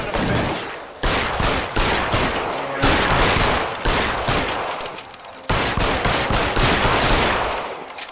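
Gunshots in the video game LA Noire come as loud, close bursts of rapid fire that repeat in several volleys with brief gaps between them, alone and without talking.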